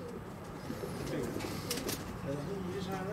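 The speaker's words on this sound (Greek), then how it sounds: "Το Περιστέρι είναι από πάνω ακριβώς." Pigeon perched directly overhead at a loft in Aigaleo, giving low cooing calls over steady outdoor background noise, with a voice speaking faintly nearby.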